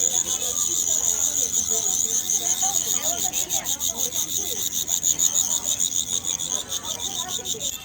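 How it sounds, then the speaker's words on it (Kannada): Crickets kept as pets in cages at a Chinese pet market, chirping in a dense, high, pulsing trill that runs continuously and loudly, with faint market background beneath. "ಈ ಥರ ಶಬ್ದ ಮಾಡೋ ಹುಳಗಳನ್ನ ಇಟ್ಟರೆ ಪಲ್ಲಿಗಳು, ಜಿರಳೆಗಳ ಮನೆಗೆ ಬರಲ್ಲ"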